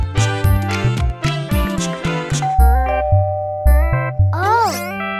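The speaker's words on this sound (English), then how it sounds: "That's right! It's the doorbell!" A ding-dong doorbell chime rings out in a bright, melodic tune over playful background music, followed by a rising whistle-like sound.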